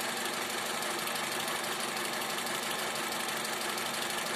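A two-litre petrol car engine idles after a jump start, a steady, even hum with a faint knocking texture, heard alone and unchanging for a few seconds.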